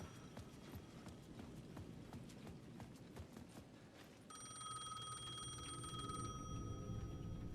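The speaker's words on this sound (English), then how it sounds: "The payphone at the edge of the plaza was ringing again." In the video game Alan Wake 2, a payphone starts ringing partway through with a sustained electronic bell tone, heard at moderate distance after a stretch of rhythmic clopping footsteps, with no speech.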